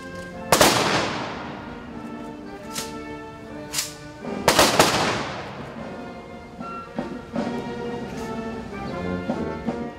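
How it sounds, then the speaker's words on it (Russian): Booming ceremonial salute volleys fire at a monument during a military graduation in Voronezh, two big blasts followed by smaller pops and crackles echoing outdoors. "Памятник освещают и звучат залпы салюта."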